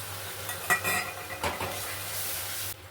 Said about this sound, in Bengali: এবার দেবো পেঁয়াজ বাটা, এবার দিয়ে দেবো ভিজিয়ে রাখা সব গুঁড়ো মশলাটা